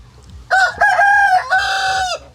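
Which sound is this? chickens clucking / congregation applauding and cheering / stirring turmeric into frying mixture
chickens clucking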